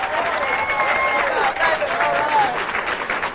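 Applause from a comedy club audience for a comic musician, brief clapping mixed with crowd noise while a host's voice carries over it.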